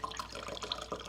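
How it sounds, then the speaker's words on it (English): A cocktail pours from a shaker spout into a glass, a short, soft burst of liquid trickling and dripping, close and faint with no talking. "And then I can just take my little spout off here and just pour"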